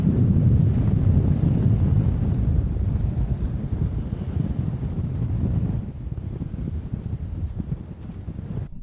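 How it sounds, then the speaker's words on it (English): Cool wind blows steadily on an overcast day at the jetty at Port Victoria, a loud broadband rush buffeting the microphone for about six seconds, then easing slightly with faint water and surf beneath, no voices. "It's an overcast, windy old day today, and the wind is cool."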